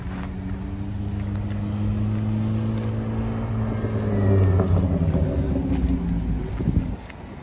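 A car drives along a Boston city street, its engine rising and falling as it moves past at moderate distance, a steady road hum building then easing off near the end, with no talking.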